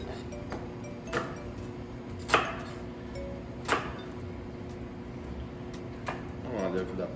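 A knife cuts an onion in half on a board, giving a few sharp, separate knocks against a quiet room background as a person talks.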